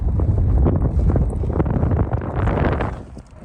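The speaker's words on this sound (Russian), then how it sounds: "извините еще раз за ветер" Loud, continuous wind buffeting a microphone beside a highway in Lithuania, a rough low rumble with gusty surges that dips briefly near the end.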